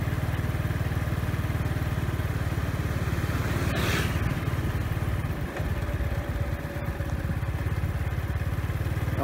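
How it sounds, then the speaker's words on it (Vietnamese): A motorbike engine hums steadily throughout while riding in Da Lat, Vietnam, a low continuous putter with wind rush and a brief passing whoosh midway. "Ngoài cái tiếng xe máy của mình ra thì hầu như là mình không còn nghe thấy tiếng gì nữa rồi."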